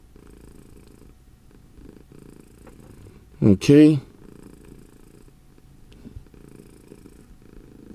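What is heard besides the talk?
cat purring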